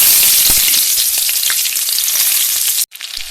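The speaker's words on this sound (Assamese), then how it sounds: "আদা নহৰুখিনি কেঁচা গোন্ধও যাবলৈ দিম, অকণমান ৰঙচুৱাকৈ ভাজি ল'ম" Onion, ginger and garlic frying in a pan for a fish curry, a loud steady sizzle with crackling pops, cutting off abruptly near the end.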